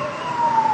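A fire engine siren wails during a massive building fire at Center Plaza in Itahari, a loud, steady tone that rises slightly over a rumbling background of vehicles and crowd noise.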